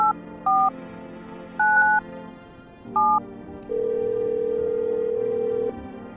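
Telephone keypad tones in the indie horror game No, I'm Not a Human: several short dual-tone beeps punctuate a low hum, then a longer steady tone sounds for about two seconds.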